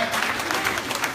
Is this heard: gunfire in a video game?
no